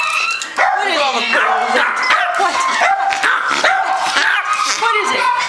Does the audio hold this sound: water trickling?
no